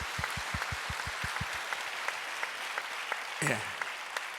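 A church congregation applauds in encouragement during a Sunday service, a sustained wash of many hands clapping in a large room, with a few louder rhythmic claps at the start and a brief voice partway through.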